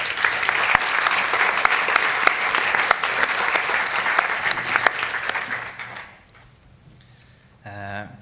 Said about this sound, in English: Give him also a round of applause.